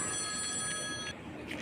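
A brief electronic phone ring trills for about a second, then cuts off, heard indoors at moderate volume.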